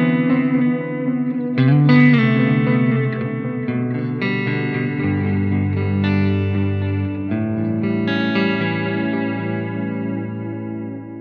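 Electric guitar played through a delay pedal set to an analog-style patch with modulation, sustained chords and notes swelling with wavering, chorus-like echoes that trail and overlap for several seconds, no talking.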